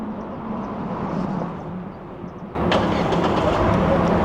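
A Chery Tiggo 4 Pro Max engine starts via remote start: a steady low idle, then a sudden catch and louder, fuller running hum that continues steadily, no talking.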